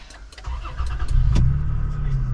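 A 2023 Toyota Tacoma TRD Pro fires up: a brief starter crank, then the engine catches and settles into a loud, steady idle, heard close from inside the cab.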